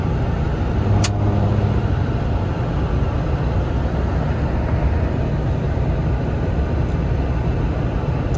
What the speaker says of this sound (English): So I guess let's go take it out on the road and